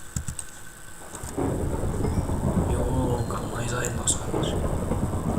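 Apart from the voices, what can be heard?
rain falling in Minecraft video game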